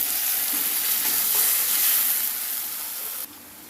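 Sesame and prawn-head paste being stirred in a hot pan, a dense continuous sizzle and hiss close by that eases off and cuts lower near the end.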